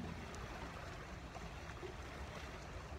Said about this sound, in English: More waves.